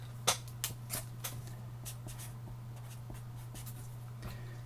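A pen writes box dimensions on paper, starting with a few sharp taps and strokes, then a faint, light scratching over a constant low electrical hum, with no talking.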